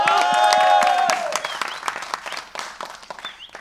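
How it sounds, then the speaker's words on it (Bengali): A studio audience at a televised Bangladeshi comedy club show applauds a performer named Rashed, dense clapping that starts loud and fades into scattered claps, with a tonal musical sting over the opening second. "রাশেদের জন্য একটা জোরে করতালি হোক"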